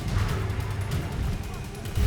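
The Confringo spell in Hogwarts Legacy goes off in heavy, booming blasts with crashing impacts and low rumbling bursts, loud and close, amid combat noise.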